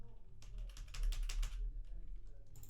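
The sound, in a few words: typing numbers on a computer keyboard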